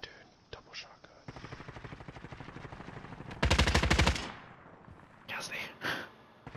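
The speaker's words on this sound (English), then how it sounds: "I can hear them all shooting now" Rapid video game gunfire in a shooter match, dense automatic bursts running throughout with a louder, heavier volley near the middle, while players talk over it.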